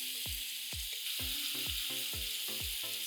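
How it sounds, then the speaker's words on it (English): Dal, peanuts and spinach cooking in a pan under a steady hiss of frying, broken by about eight low rhythmic thuds as the mixture is turned with a spoon. The sound is soft and close, with no voices. "Mix it well."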